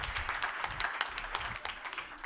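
A faint, brief round of applause from an audience at a panel discussion, scattered hands clapping steadily for a couple of seconds with nobody speaking.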